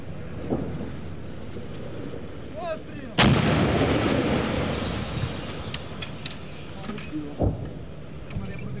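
Artillery fire from Ukrainian troops at frontline positions near Bakhmut, with one loud, sharp blast partway through that rolls off into a long echo. A second, smaller boom follows later over steady outdoor background noise.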